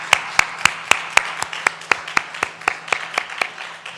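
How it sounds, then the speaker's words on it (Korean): Congregation at a Korean Sunday church service giving thanks with a slow, steady round of about fourteen evenly spaced clap beats, moderately loud in a reverberant hall. "감사의 박수 한번 하겠습니다."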